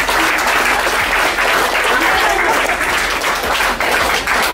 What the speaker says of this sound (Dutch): Applaus voor Hattin en Romaita.